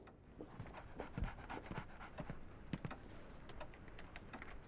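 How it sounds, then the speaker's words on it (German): Two dogs panting in the video game Sherlock Holmes The Awakened, rapid rhythmic breathing at close range over a steady low background hum, with no talk. "jetzt sind beide Hunde hier"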